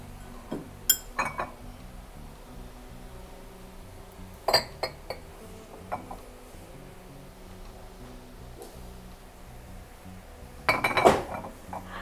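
Wine glasses and dishes clink as they are handled in a German secondhand shop: scattered sharp clinks and taps, with a cluster near the start, a few in the middle and a louder burst of rattling near the end. No one speaks.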